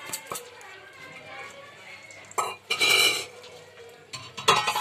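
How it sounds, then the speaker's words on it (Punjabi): Semolina being stirred in hot ghee in a wok for suji halwa, with a utensil scraping and clattering against the pan in short bursts, louder toward the end, over steady kitchen background. "ਸੂਜੀ ਪਾਉਣ ਤੋਂ ਬਾਅਦ ਇਹਨੂੰ ਲਗਾਤਾਰ ਹਿਲਾਉਂਦੇ ਰਹਾਂਗੇ"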